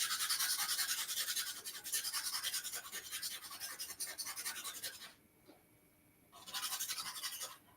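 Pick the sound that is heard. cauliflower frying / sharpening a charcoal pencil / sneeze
sharpening a charcoal pencil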